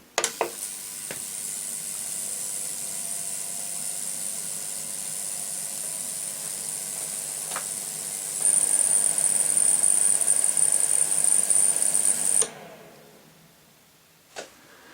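An ultrasonic cleaner with a vintage toy figure inside gives a steady high-pitched hiss and buzz, with a sharper whine joining near the end before it shuts off to near silence, followed by a faint click.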